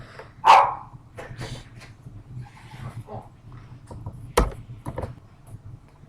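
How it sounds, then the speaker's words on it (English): A dog barks indoors at children playing outside, a loud sharp bark followed by scattered quieter yips and a second strong bark, with faint background sounds between. "My dog was barking at the kids outside"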